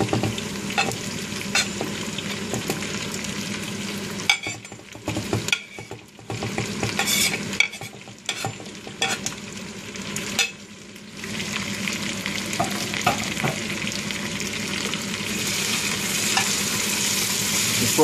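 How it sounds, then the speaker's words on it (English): Onion and potatoes fry in a pan for a homemade beef soup. A loud, steady sizzle runs throughout, broken by scraping stirs and brief quieter pauses, with no talking. "When you're frying potatoes,"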